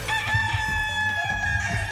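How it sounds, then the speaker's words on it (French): A rooster crows loudly as a game show sound effect, a sustained harmonic call filling the whole stretch over low studio background noise, with no talking. "Ça, le coq a chanté."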